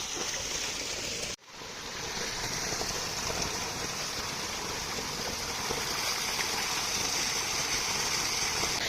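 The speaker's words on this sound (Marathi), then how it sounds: "पाणी लावायला चालू केलेलं आहे बघा इकडे सर्व" Water runs steadily into a farm field for irrigation, a close, rushing, rain-like hiss that drops out for an instant and then continues evenly.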